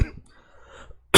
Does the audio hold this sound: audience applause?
no